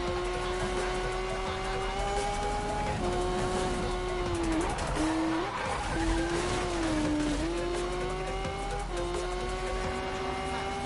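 Race cars in a video game roar with sustained engine whine and repeated tire squeals as they skid through turns, loud and continuous with pitch rising and dipping, no talk over it.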